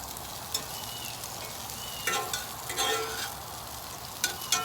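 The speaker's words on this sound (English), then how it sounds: "I'm sure you can hear that sausage." Turkey chorizo sausage frying in a pan with steady, faint sizzling and crackling, broken by a few brief sharper pops and the clatter of stirring, with no talking.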